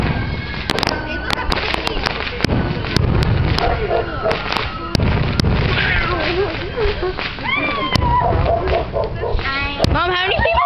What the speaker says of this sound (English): They're shooting fireworks over there too.